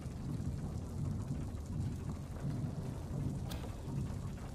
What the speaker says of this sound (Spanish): ¿Puedes escuchar cómo está lloviendo?